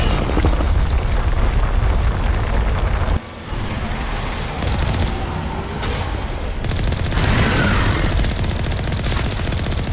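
Sustained gunfire rattles in Mass Effect during a fight against a Thresher Maw, with dense rapid shots and rumbling blasts under a roaring battle mix, broken by a brief lull partway through.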